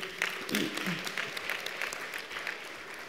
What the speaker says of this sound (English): I think we should give him a round of applause, actually